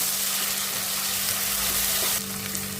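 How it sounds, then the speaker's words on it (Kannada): Ginger garlic paste frying in a pan, a loud, close and continuous hiss and sizzle that holds steady throughout with no talk. "ಒಂದು ಸ್ಪೂನು ಜಿಂಜರ್ ಗಾರ್ಲಿಕ್ ಪೇಸ್ಟ್ ಹಾಕ್ತೀನಿ ಅದು ಸ್ವಲ್ಪ ಹಸಿ ವಾಸನೆ ಹೋಗೋ ತನಕ ಫ್ರೈ ಮಾಡ್ಕೊಳ್ಳೋಣ ಇದನ್ನ"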